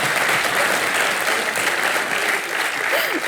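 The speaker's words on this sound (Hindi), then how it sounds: "तालियां मारो इनके लिए।" A studio audience at a Hindi TV talk show claps throughout, a full, sustained burst of applause close and loud.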